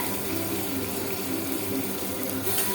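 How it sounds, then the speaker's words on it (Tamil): Water pours in a steady, loud, unbroken rush while being added to ground rasam paste in a home kitchen, filling the whole stretch with no talk. "அடுத்து இதில் கொஞ்சோண்டு வாட்டர் ஆட் பண்ணிக்கோங்க"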